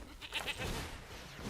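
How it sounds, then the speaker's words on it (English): A goat bleats in the MTG Arena video game: a short, bright, close call lasting about a second, with no talk over it. "make the goat."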